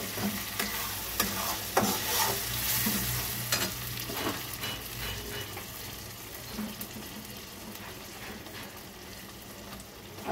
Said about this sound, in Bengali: এইবার আমি পেস্টটা ঢেলে দেবো এর মধ্যে।